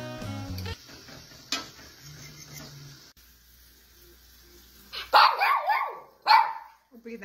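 A small dog barks twice, loud and close, sharp yaps arriving after a quieter stretch of faint household noise and low voices.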